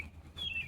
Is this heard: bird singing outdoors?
yes